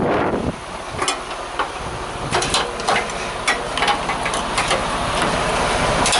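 Strong wind buffets the microphone in a dense, rumbling roar with rising gusts, mixed with faint metallic clicks and rattles.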